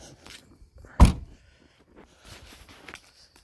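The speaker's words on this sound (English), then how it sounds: "I'm going to shut the door." A door swings shut with a single solid thunk in a quiet indoor room, one close, sharp impact followed by faint shuffling and small handling sounds.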